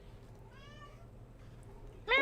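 Cat meowing twice, a soft, brief mew followed by a louder, clearer meow at the end, close to the microphone in a quiet room.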